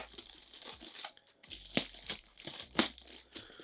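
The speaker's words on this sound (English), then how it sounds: "they're also packaged in a bag, as you can see here, with some sellotape around the middle, which I'll need to cut open" Plastic bag packaging taped with sellotape around a pair of football boots is cut and torn open, giving close, sharp rips and crinkles in short bursts with brief pauses between them.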